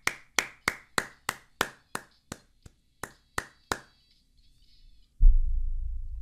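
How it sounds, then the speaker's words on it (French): Eleven or so sharp single hand claps in an even rhythm, close and loud, applause for a stream chat, followed after a pause by a burst of low rumbling noise. "applaudissements à tout le chat"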